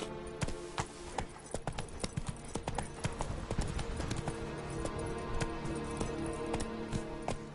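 Roach, the horse in The Witcher: Wild Hunt, clip-clops along in a steady trotting rhythm, hooves close and distinct over a continuous game soundscape.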